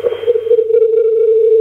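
Radio audio plays through a mobile phone speaker as a steady, thin, tinny tone with a narrow sound, close and fairly loud, with no talking.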